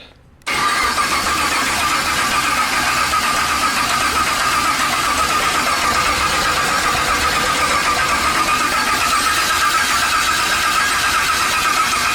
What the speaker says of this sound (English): We're just gonna crank it first with no fuel, just try to get some oil cycling.